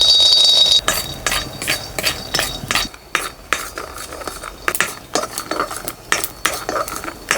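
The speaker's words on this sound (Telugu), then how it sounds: "కడాయి పెట్టుకుని 2 చెంచాలు పల్లీలు వేయించుకోవాలండి" Peanuts being dry-roasted in a kadai, stirred with a spoon: repeated metallic scrapes and light rattling clinks in an uneven rhythm, close and fairly loud, with no voices.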